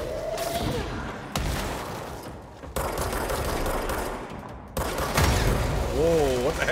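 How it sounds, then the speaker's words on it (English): Explosions and rapid combat blasts in the video game Control burst out loud and dense, with sharp onsets cutting in every second or two over a constant roar. "Why is there explosions everywhere all of a sudden?"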